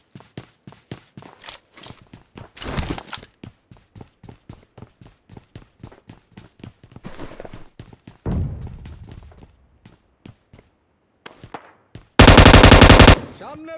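Thompson submachine gun fire in the BGMI battle royale game: a sharp, dense burst of rapid shots near the end, after a long run of rhythmic footsteps and a few earlier gunfire bursts, with no talk.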